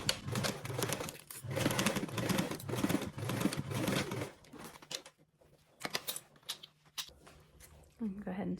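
A sewing machine stitches a 3/8-inch seam along a bag panel, its steady mechanical chatter running in close bursts for several seconds before trailing off into quieter handling noises.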